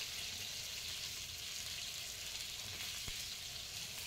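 Pointed gourd pieces frying in hot oil with salt and turmeric, giving a steady, close sizzle that carries on without a break and without voices.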